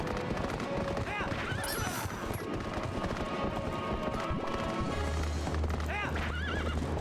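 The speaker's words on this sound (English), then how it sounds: "They even managed to bring the horse into it." In the Zelda: Twilight Princess video game, a horse whinnies twice and gallops with rapid clip-clop hoofbeats amid busy game sounds, with a player talking over the action.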